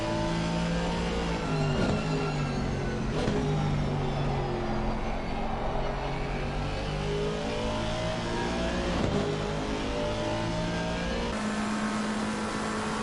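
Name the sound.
Aston Martin race car engine in a sim racing video game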